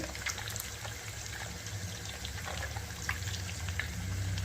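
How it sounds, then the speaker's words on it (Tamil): Curry leaves crackle and sizzle steadily in hot homemade ghee, a dense, even frying hiss with small pops that runs unbroken and close throughout, with no voices. "கருவேப்பிலை பொரியுதான்னு பார்க்கணும் பொறிஞ்சிருச்சுன்னா வெந்துடுச்சுன்னு அர்த்தம் நல்லா பொறிஞ்சிடுச்சு"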